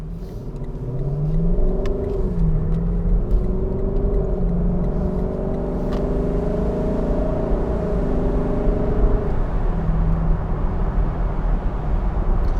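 A 2021 Lexus LC 500 Convertible's V8 drones steadily on a night drive, its engine note rising and falling through gear shifts over a constant road rumble, heard from inside the car without talk.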